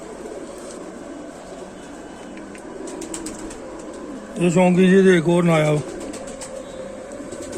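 Lal Sira pigeons cooing in a loft, a soft rolling coo standing out briefly over steady background noise, with someone talking nearby before and after.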